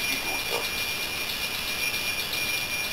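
A model railway train arrives at a platform on a home layout, giving off a steady high electric whir with a faint wheel squeal, close and continuous throughout.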